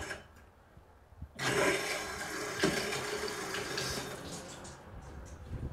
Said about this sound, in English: let's turn on the final tap here